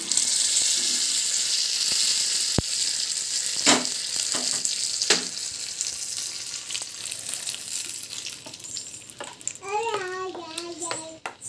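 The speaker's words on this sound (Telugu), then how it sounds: "ఇక్కడైతే టమాటా చట్నీకి పోపు వేస్తున్నానండి" A tempering for tomato chutney crackles and sizzles in a pan nearby, a loud frying hiss with a few sharp pops and clinks, while faint voices, including a child's, come through near the end.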